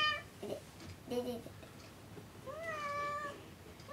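Cat meowing indoors, several short mews followed by a longer drawn-out meow, moderately close, with faint background noise.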